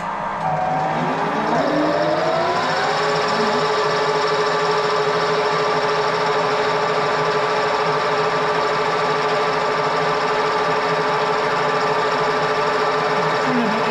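A lathe spins a renovated Pratt four-jaw chuck at about 860 RPM. It winds up over the first seconds, then settles into a steady, loud mechanical whine and hum that continues alone.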